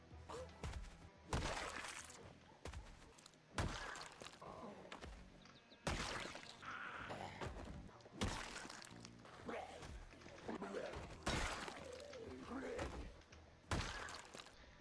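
Window glass shatters in the video game Project Zomboid with repeated sharp crashing bursts and thuds spread across the clip, fairly quiet and mixed with a voice talking.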